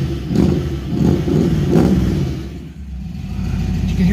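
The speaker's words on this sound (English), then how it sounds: "You can hear those solid lifters churning." A 1967 Shelby GT350 V8 with solid lifters running on a cold start, a loud close rumbling idle with rhythmic throttle swells and a busy mechanical clatter churning underneath throughout.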